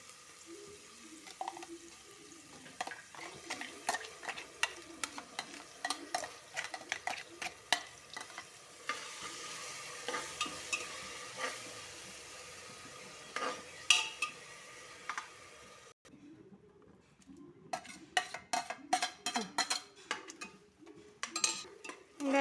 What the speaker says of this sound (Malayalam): ഒരു പച്ച മണം മാറുന്ന വരെ നമുക്കൊന്ന് ഇളക്കാം